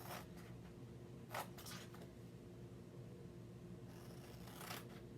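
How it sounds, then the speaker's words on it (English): Scissors cut a paper transfer wreath in quiet, soft crisp snips and rasps, a few short strokes close by against a faint steady hum. "let me grab my scissors"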